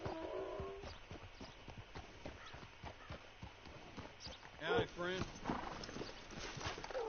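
Hooves of a horse clip-clop at a walking pace in Red Dead Redemption 2, a steady run of distinct close hoofbeats with brief spoken lines and other game sounds mixed in.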